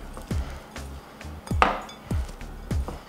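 Asian slaw being tossed with soy sauce in a bowl, with a utensil knocking the bowl in a steady series of about six close, dull clinks amid soft mixing noise.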